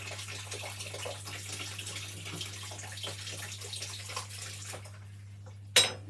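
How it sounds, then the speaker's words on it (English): Hot tap water runs steadily into a kitchen sink with a constant close hiss and a low hum underneath. The flow cuts off near the end, followed by a brief clink. "once the water runs hot, we'll pop the spoon underneath"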